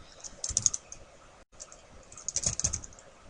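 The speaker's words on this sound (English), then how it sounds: "if I can type" Quick bursts of typing on a computer keyboard, close and fairly quiet, with a short pause between two runs of clicky keystrokes.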